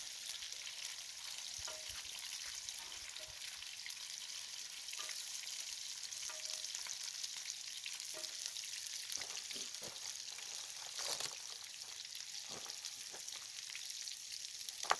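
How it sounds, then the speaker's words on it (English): Food fries in old leftover bacon grease, giving a continuous soft sizzle. Scattered faint taps and stirring clicks run through it, with no voices. "Now this is just cooking in some old bacon grease left over from breakfast this morning."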